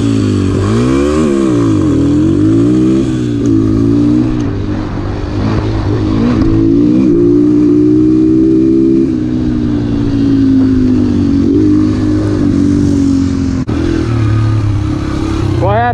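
A dirt bike engine revs hard through a second-gear launch, its pitch climbing and sweeping continuously close by over sixteen seconds, with voices audible beneath the steady loud drone.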